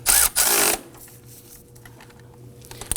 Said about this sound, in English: Let's go ahead and snug down the alternator bolt.